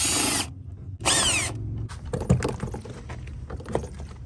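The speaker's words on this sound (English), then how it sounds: "Now we're going to remove these 2 T27 bolts from our washer assembly to get easier access to our starter." A power tool loosens T27 bolts on a Mercedes Sprinter washer assembly, with two short whirring bursts followed by clinks and rattles of handled metal parts, close up and with no talk.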